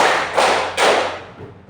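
A group of children clapping together in a counting game, two loud unison claps roughly 0.4 seconds apart, each burst ringing out briefly in the room, with no voices.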